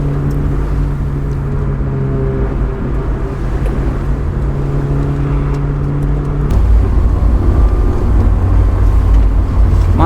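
A Honda S2000 sports car drives through narrow village streets, its engine a low, steady hum from inside the cabin that grows louder and rougher partway through.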